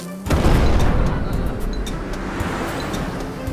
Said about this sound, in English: Oh no, I think the volcano is erupting.